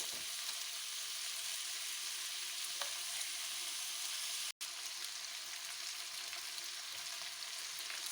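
Potatoes fry in a spiced tadka for a Punjabi aloo and radish pod dish. A soft, steady sizzle continues close by for several seconds, broken once by a split-second dropout, with no voices.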